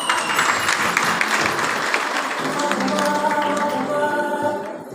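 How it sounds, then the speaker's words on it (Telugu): An audience at a women's gathering breaks into loud, sustained clapping that gradually thins, while tonal music or a voice rises underneath toward the end. "గట్టిగా చప్పట్లతో వచ్చినారని ఆశీర్వదించాలనుకుంటున్నా"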